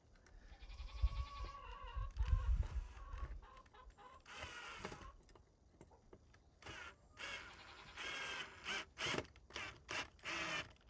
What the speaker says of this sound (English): Can you hear my goats?